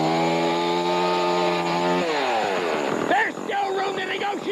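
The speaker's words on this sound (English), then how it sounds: "Oh no, not Chainsaw Chuck again" A chainsaw roars loudly and steadily, its revving shifting pitch partway through, while a voice shouts over it.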